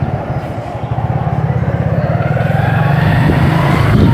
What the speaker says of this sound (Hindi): चलो हम बैठते हैं बाइक पे